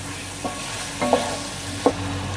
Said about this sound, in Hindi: चिकन को अच्छे तरीके से इसमें भून लेंगे।